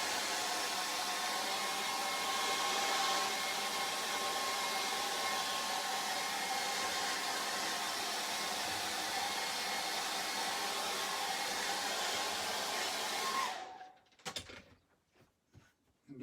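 A hair dryer blows over wet acrylic paint on a charcoal and acrylic portrait, a steady close whooshing hum that runs continuously before cutting off near the end, followed by a few quiet handling knocks.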